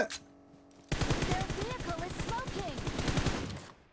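Rapid automatic gunfire from a weapon in the PUBG Mobile video game, a loud sustained burst of closely spaced shots lasting several seconds after a brief quieter lead-in, with some faint chatter underneath.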